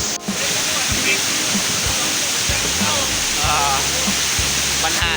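Rushing water from Tad Xuang waterfall at Ban Tham, Naxaithong district, Vientiane, Laos roars continuously, close and loud, with brief knocks and a low hum breaking through.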